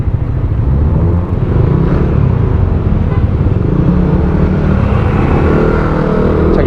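A motorcycle rides through slow, dense road traffic, its engine rumbling steadily up close among the surrounding vehicle noise, with no talking.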